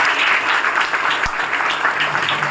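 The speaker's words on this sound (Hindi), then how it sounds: "तालियां पूरी दिवाकर की और पूरी सुरिंदर की और जितनी भी डीटीएम गेस्ट आए उनके लिए भी जोरदार क्लैपिंग" An audience at a motivational business event in Delhi claps loudly and steadily from start to finish, with a dense crowd applause close to the microphone.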